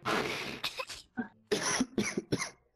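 A person coughs several times in quick, harsh bursts, close by, with brief pauses between the fits.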